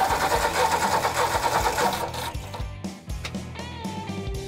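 A 1964 Ford F350 flatbed truck engine cranks with a rapid, rhythmic mechanical churning that sputters and stops without catching, then cranks again, loud and close.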